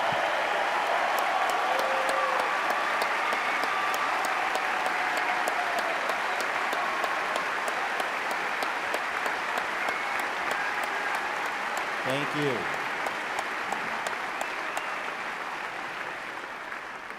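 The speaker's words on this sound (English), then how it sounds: "Let's give them a round of applause if you play for the Maize and Blue." Sustained applause from a large audience greets former Michigan football players at a university event, a dense, even wash of clapping that fades slightly near the end, with brief voices heard under it.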